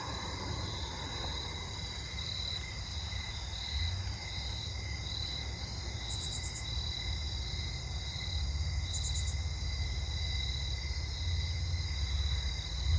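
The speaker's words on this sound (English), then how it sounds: "I wonder how slow the snowy tree crickets will be going tonight." Faint snowy tree crickets trill steadily in the background over a low outdoor night rumble, with two brief pulsed bursts of high chirps standing out.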